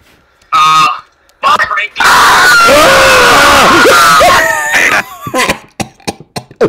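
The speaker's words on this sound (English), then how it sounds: "Scout just screamed earrape in the middle of our Zoom." A loud, heavily distorted, clipped scream cuts into a Zoom call and holds for about three seconds, with shorter shouted bursts before and after it.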